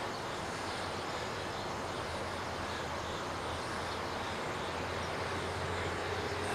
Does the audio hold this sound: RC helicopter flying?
yes